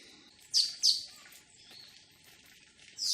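Bird chirping near a mosque, two sharp high chirps in quick succession, then a pause and a third chirp, clear and close over a quiet background.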